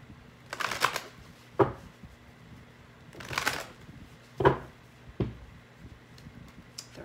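Tarot cards being shuffled in several short separate bursts of crisp riffling and tapping, quiet and close, with near silence between them.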